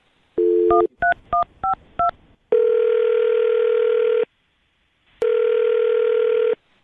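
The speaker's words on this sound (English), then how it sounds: "I'm going to dial her phone number right now" A quick run of touch-tone keypad beeps dials a phone number, then long steady ringing tones sound twice on the line with a silent gap between them, loud and clean, as a morning radio show calls a listener.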